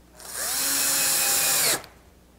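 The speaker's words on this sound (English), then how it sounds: "I'm just going to use this little screw gun and these little 1¼ inch drywall screws." A small screw gun drives 1¼ inch coarse-thread wood screws into reclaimed stair-tread wood. One close, steady high whir lasts about a second and a half, then stops abruptly.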